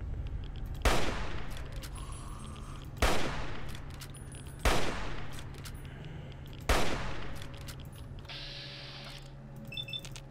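Four loud, sharp gunshot bursts from weapons in Fallout 3, spaced about two seconds apart over a steady background hum, each with a short decaying tail; no one speaks.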